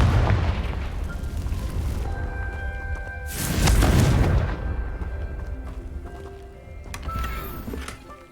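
A Confringo blasting spell bursts in Hogwarts Legacy, a loud booming explosion rising over a rumbling backdrop, then decaying into lingering crackle and softer ambient noise.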